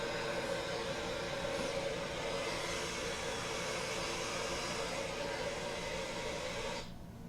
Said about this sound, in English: Now with the diffuser, you just want to place it on different sections of your hair, hold it for a few seconds